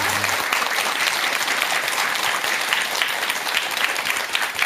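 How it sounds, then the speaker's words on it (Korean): An audience at a lecture applauds warmly after a monk's talk, a dense, steady clapping from many hands that fills the whole stretch without pause. "큰 박수 한번 보내주시기 바랍니다"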